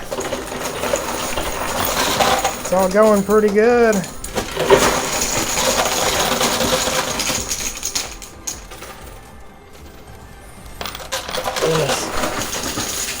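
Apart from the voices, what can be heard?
coins dropping in a high limit coin pusher machine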